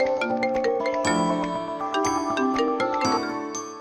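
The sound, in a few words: phone ringing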